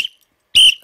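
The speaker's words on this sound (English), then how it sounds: "let's get started with the whistle first" Two sharp, loud whistle blasts from the frame drum tradition of Maranhão, Brazil: a short chirp, then a brief pause and a fuller, piercing tone, each one close and alone.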